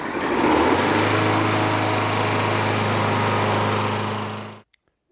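A salvaged Toro Recycler lawn mower engine runs at a loud, steady, high-pitched drone for several seconds, then cuts out abruptly into silence.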